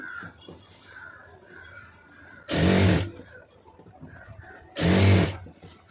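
A sewing machine stitches the fall onto a saree in two loud, steady bursts of a few seconds each, with quieter fabric handling and faint background sounds between runs.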